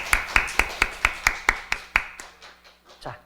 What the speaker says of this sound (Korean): 우리 힘내시라고 다 같이 한번 박수하겠습니다